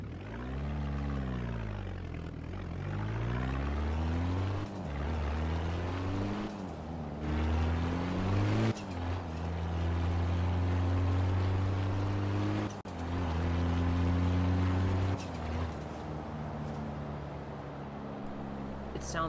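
In the Forza Horizon 3 racing game, a KTM X-Bow engine burbles at low RPM with a gruff, truck-like drone, revving up and down in repeated swells with short breaks between them, loud and continuous.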